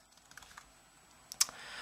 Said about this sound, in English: So you're gonna copy this quote here and type it under terminal again.